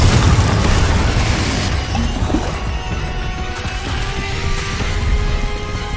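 Confringo blasting-spell explosions in Hogwarts Legacy, a loud booming burst up front fading into a rumbling tail with lingering crackle and hum.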